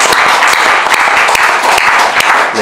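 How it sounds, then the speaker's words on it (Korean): Loud, close applause from a church congregation, dense steady clapping with sharp individual claps standing out, filling the whole short stretch without speech. "우리 다시 한번 격려의 박수 할게요"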